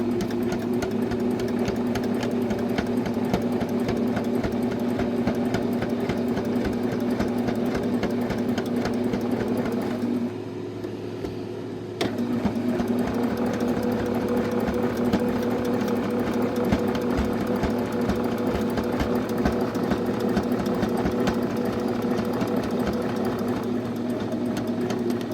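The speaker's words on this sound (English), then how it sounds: "I've already put my presser foot down, I've already got it ready to sew," Steady, close mechanical whirring of a sewing machine stitching through the layers of a quilt-as-you-go potholder, running continuously apart from one brief pause near the middle before it starts up again.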